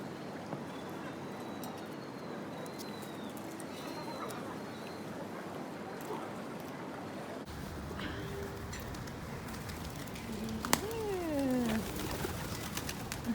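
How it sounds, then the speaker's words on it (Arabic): Pigeons coo close by outdoors, soft throaty calls rising over a quiet background hum, with one clearer swooping call near the end. "شوفوا حمام جنبنا"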